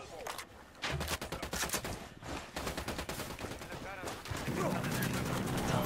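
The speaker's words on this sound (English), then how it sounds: "Oh crap, he's got machine gun." Enemy machine gun fire in Ghost Recon Wildlands rattles in dense, rapid bursts almost the whole way through, fairly loud and near, with some speech mixed under the shooting.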